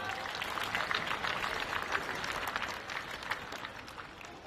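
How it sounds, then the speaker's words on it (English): Audience at a karting awards ceremony applauding the OKN Senior class, a continuous patter of many hands clapping at moderate distance, fairly quiet and steady throughout. "please, one final round of applause for OKN Senior"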